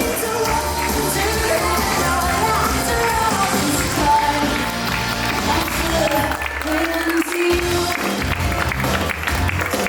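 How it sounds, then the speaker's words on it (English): An audience at a wedding celebration at Clyde's at Willow Creek Farms in Broadlands, Virginia applauds the couple Mark and Valerie, with sustained clapping mixed with cheers and overlapping talk and music throughout, briefly dipping before resuming. "One more round of applause for Mark and Valerie"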